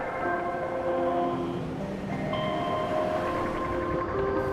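A steady train rumble with long tonal wheel squeals and hums, continuous and fairly loud, heard from inside or beside the moving cars.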